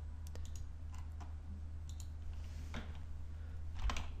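Computer keyboard typing a short email reply, with scattered soft key clicks and mouse clicks spaced across a quiet, steady room hum, one slightly louder click near the end.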